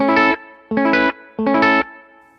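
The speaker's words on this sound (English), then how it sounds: "here it is with the reverb again" An electric guitar played through a small room plate reverb strikes three sustained chords at an even pace, each ringing for a moment before a short, soft reverb tail fades out.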